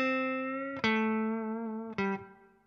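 A clean electric guitar plays through an IK Multimedia ToneX pedal set to a Fender Deluxe 65 amp model, striking three sustained chords that ring out and decay, clear and upfront with no voices.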